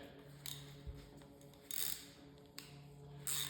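A ratchet wrench turns back a bolt on a snowblower, producing faint, short bursts of clicking at a close distance over a quiet background hum, separated by brief pauses.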